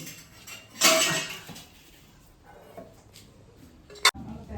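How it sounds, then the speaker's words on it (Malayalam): Dishes clatter and scrape in a short burst, then a quiet pause before a sharp clink of a plate or pot near the end. "പാത്രം കഴുകാനുള്ള പരിപാടി തുടങ്ങി"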